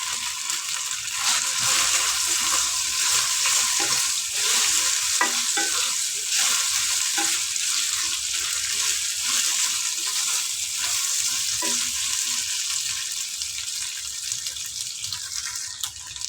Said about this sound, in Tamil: இந்த சேப்பங்கிழங்கு எடுத்து வச்சுருக்கேன், நல்லா வெட்டி ரெண்டு ரெண்டாக, அதை நம்ம போட்டுக்கலாம்.